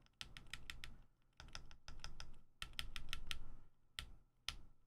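Keys are pressed on a QK Alice Duo mechanical keyboard in quick clusters of sharp clicky taps separated by short pauses, close and fairly quiet, with no talking.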